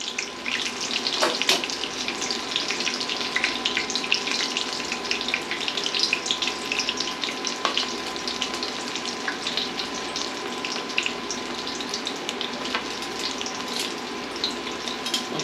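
Breaded chicken cutlets for chicken parmesan fry in a pan, giving a steady, moderately loud crackling sizzle with occasional sharper pops throughout and no talking.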